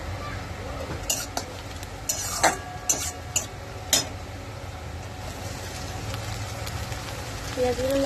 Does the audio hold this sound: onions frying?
yes